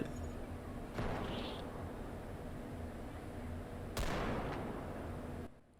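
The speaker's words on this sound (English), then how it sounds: "And the gunfire sounds so realistic." Gunfire in the ultra-realistic video game BodyCam gives two sharp reports a few seconds apart. Each ends in a long decaying echo over a steady background hum.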